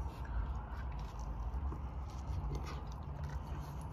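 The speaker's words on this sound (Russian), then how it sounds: "Давайте начнем дегустировать." Someone bites and chews an omelette breakfast muffin with egg, bacon and cheese, with soft close-up crunching and chewing sounds running steadily throughout, no talking.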